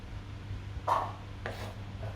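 A knife chops through stalks of lemongrass on a board while preparing a beef curry, two crisp, close cuts landing about half a second apart over a low steady hum.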